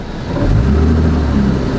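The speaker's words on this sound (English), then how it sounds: "this car's got more than enough momentum and power to merge into traffic." A classic car's engine swells and pulls hard as it accelerates to merge onto a highway, a loud, close, rising drone with steady rumbling tone lasting the whole moment without talk.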